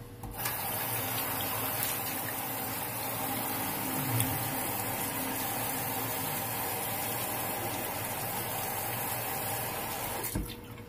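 Tap water runs steadily into a sink for rinsing off after a wet shave with a Razorock Emperor razor, a continuous close splashing flow that starts and stops abruptly.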